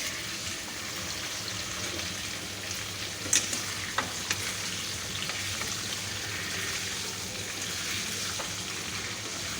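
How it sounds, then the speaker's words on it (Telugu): Food sizzles and fries steadily in a pan on a gas stove, a constant close hiss with a few soft clinks of stirring, no voices. "ఇది మంచిగా ఫ్రై కావాలి."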